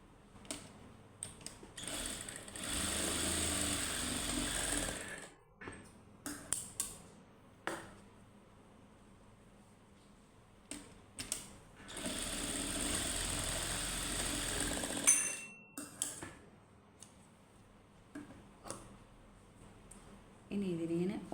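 Sewing machine stitching fabric in a home tailoring lesson, running in two long bursts of steady mechanical whirring with short clicks and handling noises between them, moderately loud and close.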